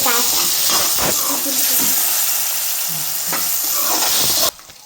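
Green chili, ginger and black pepper sizzling in hot oil in a pan for paneer curry, with steady frying hiss and occasional stirring scrapes throughout, and a voice talking over it before the sizzle cuts off sharply near the end.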